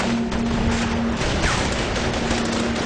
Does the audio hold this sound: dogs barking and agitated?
no